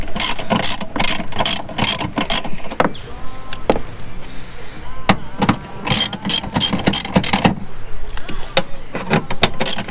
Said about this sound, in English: All done with a 10mm socket.